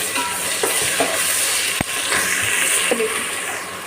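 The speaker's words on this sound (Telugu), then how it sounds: "అల్లం వెల్లుల్లి పేస్ట్ పచ్చివాసన పోయేంత వరకు ఫ్రై చేసుకోవాలి." Homemade ginger garlic paste frying in oil in a pan for pulav, with a steady sizzle broken by a few stirring scrapes and one sharp clink of the spoon against the pot.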